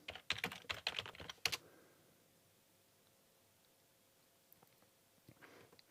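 Quick bursts of keystrokes on a computer keyboard as an npm install command is typed, a rapid cluster of close clicks followed by near silence and a few faint taps at the end.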